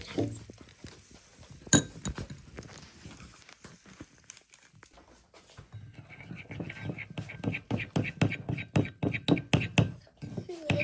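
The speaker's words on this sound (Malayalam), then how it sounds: "നമ്മൾ കുറച്ച് ഹണിയും കൂടെ അതിലേക്ക് മിക്സ് ചെയ്ത് കൊടുത്തിട്ടുണ്ട് അപ്പോൾ ഇത്രയും മതിയാവും ഇത് നന്നായിട്ട് ആദ്യം ഒന്ന് നമുക്ക് മിക്സ് ചെയ്തെടുക്കാം" A spoon scraping and clinking in a small bowl while orange peel face pack is stirred with honey, a steady run of rhythmic taps in the second half after quieter handling, a voice speaking faintly.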